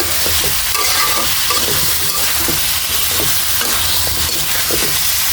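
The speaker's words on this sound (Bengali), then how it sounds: "ভালোভাবে আচারটা তেলের সাথে ভেজে নিচ্ছি" Pickle frying in oil with salt and bay leaves, stirred steadily in the pan, giving a continuous broadband sizzle with scraping stirs throughout, loud and close with no talk.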